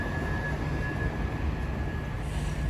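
C2C Class 357 electric train, unit 357037, pulling out of a London terminus: a steady, even rumble with a sustained high whine and a faint tone above it, continuous and fairly close throughout.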